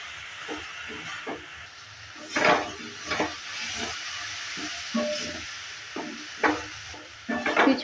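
Shredded cabbage being stirred and fried in a pan for a Bengali bandhakopi ghonto, with a soft steady hiss underneath and intermittent scraping clatters of the spatula against the pan.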